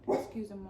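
A dog gives a short bark followed by a softer whining yelp, heard close and brief in an indoor home setting.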